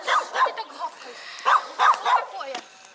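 Local village dogs in rural Russia bark in a quick series of sharp yaps and woofs, fairly close, with a few brief pauses between bursts.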